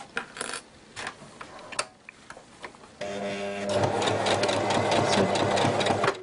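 A sewing machine stitches a straight seam on a homemade fabric fruit bag, starting after a few sparse clicks and handling noises and then running as a steady, close, continuous whir to the end.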